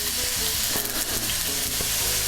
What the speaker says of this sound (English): So I'm going to add my onions.